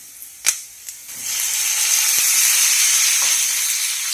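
Chopped tomatoes dropped into potato masala in a hot pan: a couple of soft clunks, then a loud, steady sizzle that swells and holds, close up with an occasional light tap.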